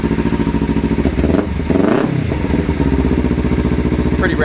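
Kawasaki Ninja motorcycle idling through a Ransoto slip-on exhaust, a loud, raspy, steady engine burble close by with a brief swell in the middle, no talking.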